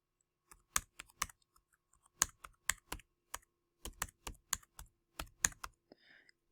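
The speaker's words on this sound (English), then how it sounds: "just start typing in some random numbers" Irregular bursts of clicky keystrokes on a computer keyboard, close and quiet, typed in quick clusters with short pauses between.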